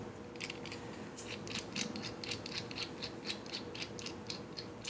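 An iridium spark plug is cranked tight back into its engine port, producing a series of close, faint ratcheting clicks in a steady rhythm with no talking.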